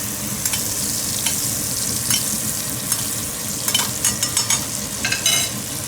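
Steady hiss of foie gras frying in a pan, with intermittent sharper sizzle bursts and light spoon scrapes as hot fat is spooned over it.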